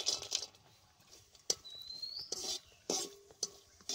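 Almonds, raisins and cashews frying in a little ghee in a wok, heard as quiet scattered clinks and scrapes of a spatula with faint sizzling, a few sharper knocks against the pan.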